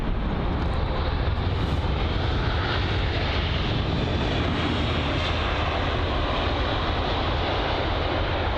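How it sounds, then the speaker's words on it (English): A Malaysia Airlines Airbus A350-900 arriving at London Heathrow from Kuala Lumpur produces a loud, steady, broad jet roar that fills the whole stretch without a break. "And this here is going to be the Malaysian Airlines A350-900 arriving from Kuala Lumpur."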